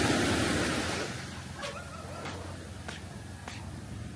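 Sea waves wash onto a beach in Catanduanes, a loud surge of surf that eases into a softer, steady wash with a few faint clicks nearby.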